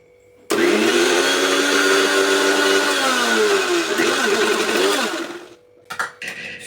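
A kitchen blender whirs a cocoa powder drink, starting abruptly with a loud steady motor whine that holds for about five seconds, its pitch wavering as the contents churn, then winds down and stops, followed by a few faint clatters.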